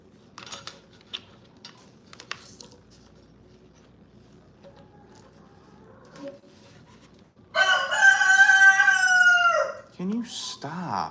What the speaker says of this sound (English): Oh, they're chickens.